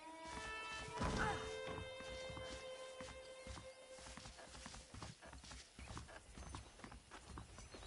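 A horse ridden at a steady walk in Red Dead Redemption clip-clops in an even, continuous rhythm of close hoofbeats, with a brief whinny near the start and a faint background ambience.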